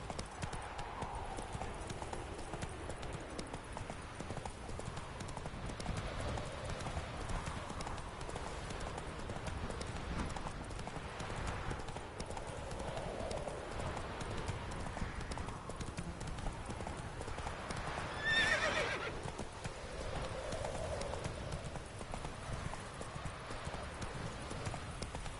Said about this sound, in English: Whoa there, Roach. Faster.